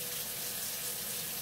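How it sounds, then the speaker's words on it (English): A kitchen hot water tap runs at full flow, giving a continuous, close, rushing splash with no break and no voices over it. "Forgot to turn my hot water on."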